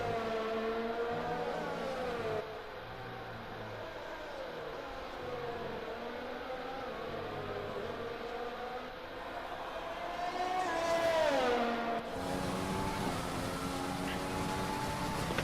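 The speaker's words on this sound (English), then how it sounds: "I just love the sound of the car." An F1 car engine revs in F1 2020 at the USA Grand Prix, a steady high-pitched whine rising and falling through gear changes, loud and continuous with brief tonal sweeps.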